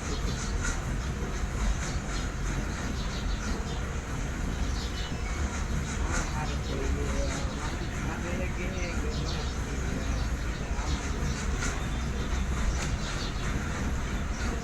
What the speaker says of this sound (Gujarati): મિત્રો તમે જોઈ શકો છો રેલગાડી તો રિવેસ ચાલુ થઈ